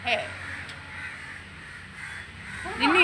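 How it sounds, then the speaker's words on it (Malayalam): Crows caw harshly nearby, a call at the start and a louder burst of several caws at the end, with quiet background between. "ആ കാക്ക വന്ന് ഉണ്ട്, കാക്കകൾ വന്നു"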